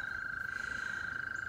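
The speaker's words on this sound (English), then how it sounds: "Can you hear the frogs?" Frogs call faintly in a garden setting, a thin, steady high trill pulsing rapidly and continuously with no pause, quiet and somewhat distant, without any voices.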